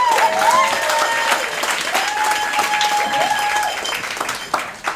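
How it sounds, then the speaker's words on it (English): Guests at a Honolulu wedding reception applaud the best man, a warm burst of steady clapping from a roomful of people that fades out at the end, with voices mixed in. "please big round of applause for your best, one of your best men this evening"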